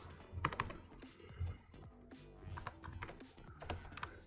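Soft, quick key clicks on a computer keyboard in irregular bursts, close but faint, with no talking over it.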